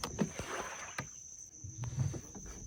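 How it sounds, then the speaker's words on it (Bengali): A wooden fishing boat is pushed out into the sea at night in winter, with a few dull knocks and scraping thuds over a steady hiss of water and wind, near and fairly quiet, without talk. "প্রকাশ ভাই নৌকা বের করছে আর পলাশ ভাই দেখুন ঠেলছে"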